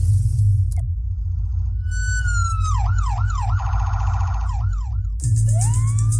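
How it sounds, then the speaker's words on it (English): An emergency vehicle siren blares loud and close, sweeping through a rising-and-falling wail and then rapid yelping cycles over a heavy low engine rumble, cutting off abruptly before starting again. "Do you know what to do when you hear an emergency vehicle approaching?"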